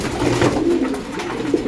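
A pigeon coos, a soft low burbling call repeated a couple of times close by in a loft holding newly acquired racing pigeons, with no talk.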